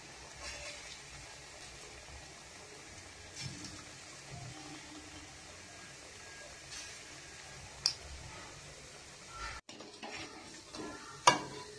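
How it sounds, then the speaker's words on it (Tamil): Onion bondas deep-frying in hot oil give a quiet, steady bubbling hiss with occasional clicks and a couple of sharp knocks, heard close with no talking. "இந்த மாவை போண்டாவை போட்டு பொரிச்சு எடுத்துக்கலாம்"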